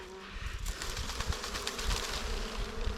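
Dwarf honeybees buzzing around their nest, a dense, steady swarm hum with individual insects flitting close by, moderately faint and continuous, with no talk.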